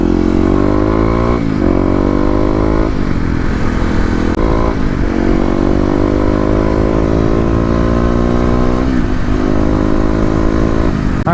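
A Kawasaki KLX250 motorcycle riding in wet weather, its engine loud and close throughout, rising and falling in pitch through several gear changes as it accelerates, with no talk.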